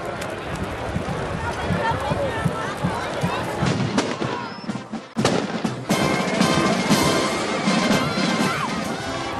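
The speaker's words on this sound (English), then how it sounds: "To the cheers of the crowd and amidst the loud banging of the firecrackers, the symbol of winter explodes and collapses." Firecrackers bang in dense, overlapping bursts while a large crowd cheers at a Swiss winter bonfire where the winter effigy explodes and collapses, a loud, continuous roar throughout with a brief dip near the middle.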